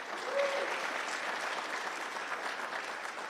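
Crowd applause at a national Venturing leadership awards reception for recipient Andrea, an even, continuous wash of many people clapping heard at moderate distance with no voices.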